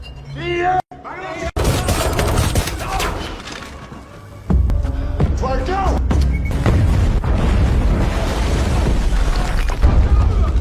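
Loud cinematic explosion with a booming burst and crashing, shattering debris, followed by rumbling turmoil and dramatic music.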